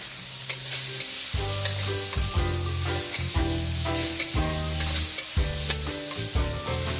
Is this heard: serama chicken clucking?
no